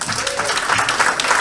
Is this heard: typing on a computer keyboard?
no